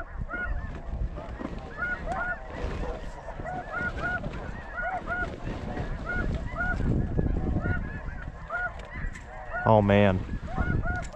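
A huge flock of snow geese honks over a decoy spread during a snow goose hunt. Dense, overlapping calls come from near and far, and a hunter's voice is briefly heard.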